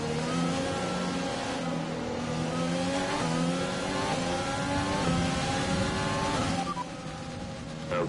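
An F1 car engine in the F1 2020 game screams at the race start in France, pitch climbing in a long rising whine through the gears, with several other cars roaring close around it.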